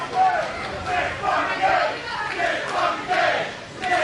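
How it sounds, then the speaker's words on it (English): A wrestling crowd at an indie deathmatch chants Nick Gage's name in a steady rhythmic cadence, loud and roomy, the massed voices rising and falling in repeated beats. "Crowd breaks out into a Nick fucking Gage chant."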